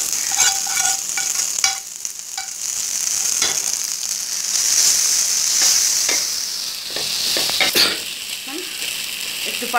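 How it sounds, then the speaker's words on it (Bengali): Dried fish sizzles loudly in a pan with turmeric and coriander powder while it is stirred, giving a constant frying crackle with scraping stirs on top. "এবার আমি আমার শুটকি, ভাজা শুটকিটা এর মধ্যে দিয়ে দিব।"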